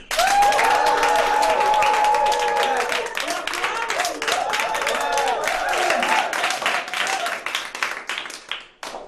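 A church congregation applauds and cheers loudly, sustained clapping filling the space from the start and gradually tapering off, with voices calling out over it.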